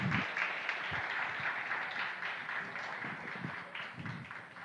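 A church congregation applauds during a Portuguese sermon, a soft, fairly distant wash of clapping that holds steady for a few seconds, with faint low thumps underneath.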